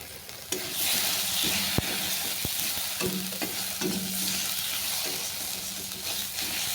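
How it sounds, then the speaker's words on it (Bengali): Dry spices such as turmeric, chili powder and salt are stirred into a fish and elephant-foot yam curry in a hot pan, with scraping spoon strokes and clicks over a soft continuous sizzle. "শুকনো মশলাগুলো ভালো করে মিশিয়ে নিলাম"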